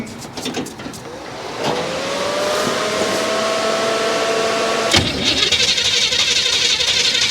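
A car engine cranks with a rhythmic starter churn and then catches, holding a steady running idle whose tone rises and shifts near the end, loud and close throughout.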